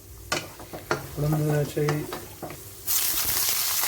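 Cashews and raisins sauté in a pan, a soft sizzle with stirring scrapes, broken by a voice in the middle and ending in a louder hiss of frying.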